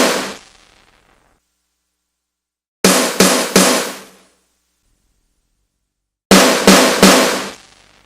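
Two bursts of three sharp, punchy resampled hits played on an Ensoniq Mirage sampler in quick succession, loud and close, separated by silence.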